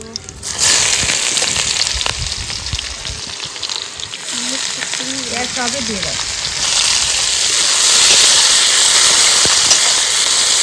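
Cumin, bay leaves, dried chillies and onions hit hot oil with a loud, close hiss and crackle that swells stronger toward the end, with a voice speaking over it.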